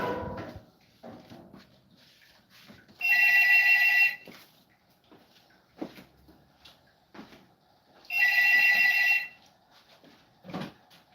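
A phone rings in two loud electronic bursts about five seconds apart, each lasting about a second, with quiet shuffling and small knocks between them.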